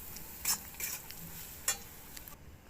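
Grated potato stirred in a pan for paratha, with a few faint scraping clinks of a spoon against metal over a low sizzling background, quiet and close, no talking.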